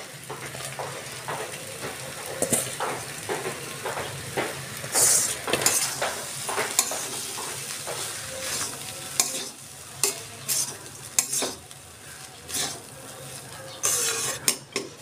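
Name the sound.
frying leftover rice with pumpkin and cabbage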